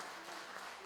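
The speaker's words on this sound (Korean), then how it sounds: "오랜만에 화엄사 화엄원에 사부대중의 박수 소리가 울려 퍼집니다" A congregation applauds at a dharma assembly in the Hwaeom Hall of Hwaeomsa temple on Jirisan, with steady, dense clapping from a sizable crowd that continues evenly throughout the short moment.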